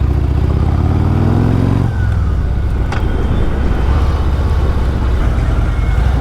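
A Harley-Davidson Road Glide motorcycle rides through traffic, its engine a loud, steady low rumble heard up close, with a shift in tone partway through and constant road and wind noise underneath.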